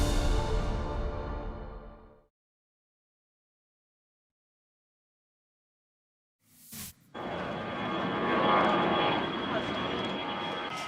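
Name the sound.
C919 passenger jet taking off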